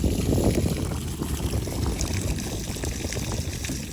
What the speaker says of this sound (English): So right now we're watering our alpacas.